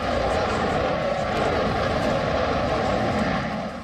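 A Rafale fighter jet flies past, its engine a loud, steady roar that holds evenly throughout and tails off slightly at the end.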